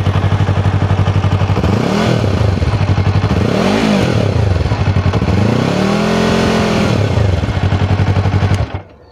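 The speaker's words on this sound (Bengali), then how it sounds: "বাট যত রেভ বাড়াবে তত কিন্তু সাউন্ডটাও ইনক্রিজ হতে থাকবে" A Yamaha R3 parallel-twin motorcycle engine is revved up and down three times, the pitch rising and falling in swells over a steady throb before cutting off.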